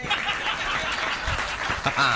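An audience applauds at a Hindi comic poetry recital (hasya kavi sammelan). Steady dense clapping mixed with chuckles and laughter fills the hall, with a voice speaking over it.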